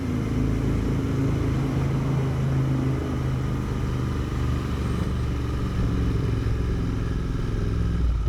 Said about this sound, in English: Bunch of Harleys just showed up.